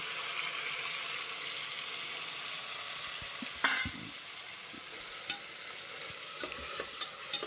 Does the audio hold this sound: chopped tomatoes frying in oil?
yes